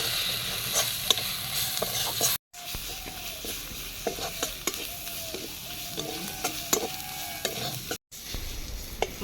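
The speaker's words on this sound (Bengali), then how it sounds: "মশলা ভালো করে কষা হয়ে গেছে" Ground masala paste with turmeric powder and chopped tomato sizzles in a pan for a Santali-style spicy guguli with cabbage, with steady scraping stirs throughout and two brief dropouts.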